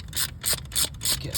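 A ratchet clicks in quick bursts while loosening a part on the fuel filter housing of a 2002–2003 OM612 T1N Sprinter. About five short metallic ratcheting runs come close and clear in a steady rhythm.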